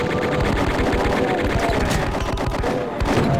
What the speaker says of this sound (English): two chain gunners fighting each other